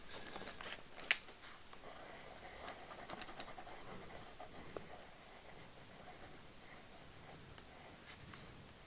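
Colored pencils, dry rather than wax-based Polychromos, being swatched across paper, giving soft continuous scratchy strokes with faint taps, close and quiet, with no talking.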